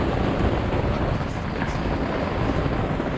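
Strong wind roaring and buffeting against the fabric of a rooftop tent on a car, a constant rumbling rush close to the microphone with no clear voices.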